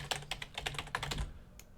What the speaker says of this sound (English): I'll type my address again.